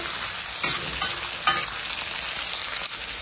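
Tomatoes fry in a pan with a constant soft sizzle, and two brief scraping stirs stand out above it, followed by a fainter third touch near the end.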